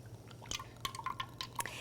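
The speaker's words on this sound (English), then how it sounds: "And then we're going to add 3 ounces of simple syrup." Simple syrup of sugar and water is poured into a pan and lands in a short run of close, distinct liquid drips and splashes over a low steady hum.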